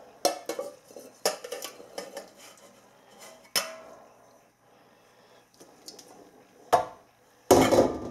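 Blackberries clatter into a metal pan in a series of soft, irregular knocks and taps, followed by a louder clank of the pan near the end.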